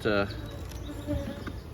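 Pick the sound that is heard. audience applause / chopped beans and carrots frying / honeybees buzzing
honeybees buzzing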